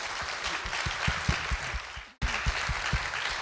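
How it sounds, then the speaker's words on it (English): A crowd claps for Babe Lehrer at a live interview event, moderately loud and steady, with a few sharp individual claps standing out, broken by a very brief dip before the applause resumes. "Let's give Babe a round of applause."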